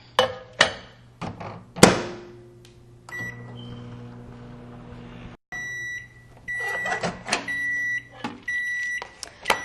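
A microwave oven melting chocolate chips in a microwave-safe dish: a few sharp clunks as the door shuts, then a low steady hum while it runs, followed by several electronic beeps and more knocks.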